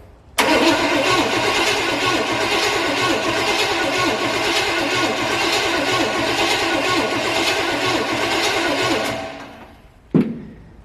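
Chevy square body truck engine cranking without firing, a steady rhythmic starter churn that runs loud and close for about nine seconds before stopping, followed by one short clunk.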